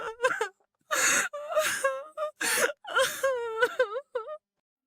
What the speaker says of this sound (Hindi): उसके कोने से किसी की रोने की आवाज सुनाई दी।